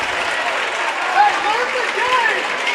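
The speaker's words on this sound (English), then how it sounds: "Goes from anger to applause very quick." A crowd applauds steadily at a high school basketball game between the Paola Panthers and Baldwin Bulldogs, a dense wash of clapping with voices mixed in.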